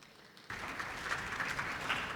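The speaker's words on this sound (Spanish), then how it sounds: "Un aplauso para recibirlos," A panel session audience at a conference summit breaks into applause, starting abruptly after a short quiet moment and continuing as a dense, even wash of many hands clapping, heard from a distance.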